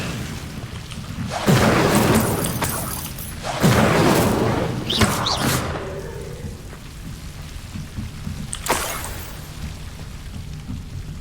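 Incendio fire spell cast in Hogwarts Legacy, heard as loud whooshing, crackling bursts of flame that flare up in a few surges over a steady noisy background.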